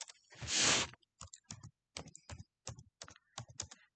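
Someone types HTML form code on a computer keyboard, with a longer burst of rapid key clatter up front followed by separate short clusters of keystrokes, close and clear, with no talking.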